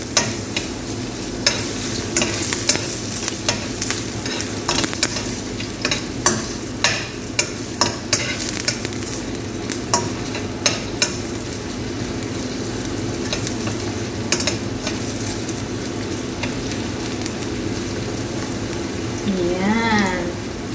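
Onions frying in a pan for chicken wings adobo: a constant dense sizzle under frequent sharp scrapes and clicks of the stirring utensil, close by, with a brief voice near the end.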